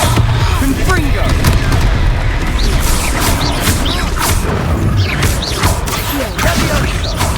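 The Confringo blasting spell goes off in Hogwarts Legacy as a dense, loud crackle and rumble of explosive bursts and debris that runs continuously, with a voice speaking over the noise.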